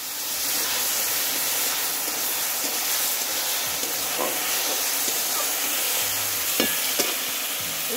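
Mashed raw potato sizzles and hisses steadily in a hot wok, a dense continuous frying sound broken by a few soft scraping stirs.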